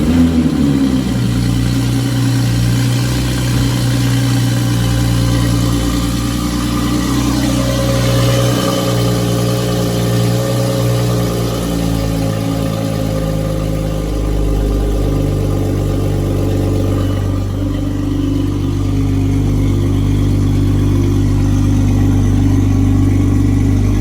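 A Toyota A90 Supra with a new charge pipe and catless downpipe runs loud and near after its first start, a deep steady engine drone with shifting revs throughout.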